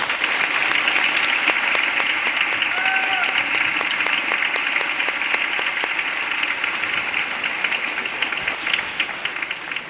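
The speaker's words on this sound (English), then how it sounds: "Please join me in giving the class of 2023 one more big round of applause." A crowd applauds the graduating class of 2023 at a high school awards ceremony, with sustained, steady, close clapping that fills the whole stretch and tapers only slightly at the end.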